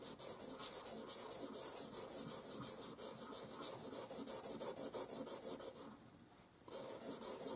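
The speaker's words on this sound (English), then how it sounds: "Do a little bit of a smoothing up on the washer" A washer from a Marlin Model 995 rifle rubbed flat against an abrasive surface, a quiet, continuous rhythmic scraping with rapid back-and-forth strokes and one brief pause near the end.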